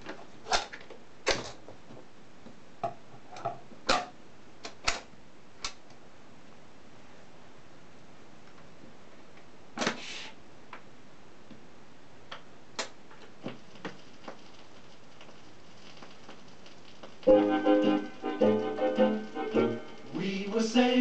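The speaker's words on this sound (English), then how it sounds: "So I'll just demonstrate with the start of a 12 inch record as well." A turntable's arm clicks and thumps sparsely as the stylus meets the lead-in of a 12-inch vinyl record, with quiet gaps between the clicks, before music starts near the end.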